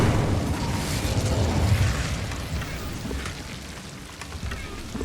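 Incendio fire spell in Hogwarts Legacy, a dense roaring whoosh of flame with crackling bursts that swells early and then gradually thins, with a faint voice underneath.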